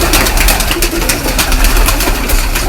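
Pigeons kept by fanciers, including blue and green varieties, coo steadily and loudly at close range in a dense, continuous chorus.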